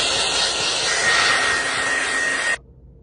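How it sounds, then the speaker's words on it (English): A hair dryer blows steadily over a freshly painted canvas, a loud, close, even rushing hiss with a faint whine that cuts off abruptly near the end, leaving quiet room sound. "hair dryer and dry it."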